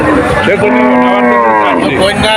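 A cow at a crowded village cattle market lets out one long, loud, close moo lasting over two seconds, with faint crowd noise behind it.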